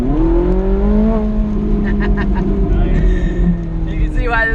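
A red Ferrari race car accelerates hard on a track, its loud engine heard from close by with a strong, rising harmonic drone and a brief exclamation-like voice near the end.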